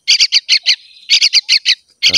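Baby birds chirp loudly and close in rapid, evenly spaced bursts of shrill cheeps, a brief pause breaking the run before the calls resume.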